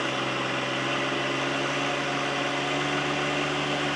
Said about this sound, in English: So HydrosPlus stage 2 on a 1 Series tractor, wide open throttle.